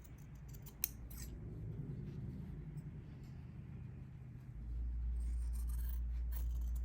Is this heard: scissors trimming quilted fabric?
yes